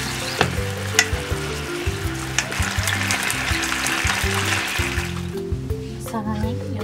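Yellowtail teriyaki fries in a pan with a steady close sizzle, broken by a few soft clinks and a voice speaking over it.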